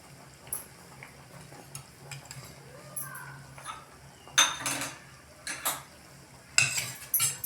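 Spoon stirring Kolhapuri dal with Amul butter in a metal pot, light scraping and clinking strokes in irregular bursts, with a louder clatter near the middle and again at the end, over quiet background.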